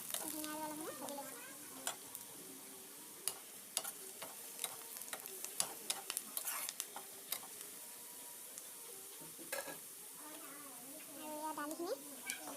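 Dal with red chilli and coriander leaves being fried in a pan, low sizzling under irregular scrapes and taps of a stirring spoon, with some quiet talk at the start and end.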